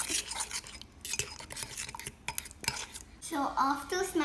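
A fork stirs banana mug cake batter inside a mug, giving repeated soft scraping and clinking strokes close by, with a brief burst of louder clatter near the end.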